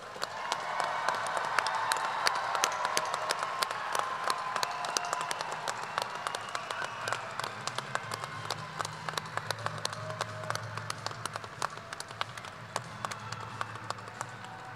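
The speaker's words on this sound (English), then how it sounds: "Give a round of applause for our graduates." A commencement crowd applauds the graduates with sustained, dense clapping that holds steady for about fifteen seconds, then thins slightly toward the end, sounding full and room-filling.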